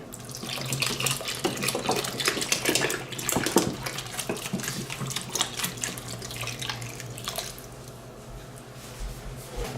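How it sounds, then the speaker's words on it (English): Milk pours in a steady splashing stream into a blood sausage mixture, with wet sloshing throughout and brief louder gurgles near the start. "We're gonna add some milk to this mixture."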